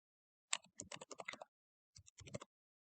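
Quick bursts of typing on a computer keyboard as a text prompt is entered, a rapid run of clicks, a short pause, then a second shorter run, close and fairly quiet with no talk.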